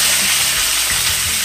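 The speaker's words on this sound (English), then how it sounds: "we're going to put our brisket in there for about maybe 2 minutes per side" Brisket for corned beef seared in coconut oil in a hot frying pan gives a loud, steady, close sizzle with a dense hiss and faint crackle throughout, no voices.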